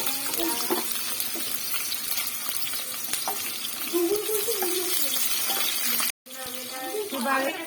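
Onion frying in hot fish oil in a home kitchen, a loud continuous sizzle and crackle close up with stirring noises and voices talking in the background, cut by a brief silence near the end.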